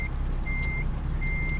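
A truck's engine idles with a steady low rumble just after being started, while a high electronic beep sounds in two long tones over the drone. It is parked at a truck stop in the rain.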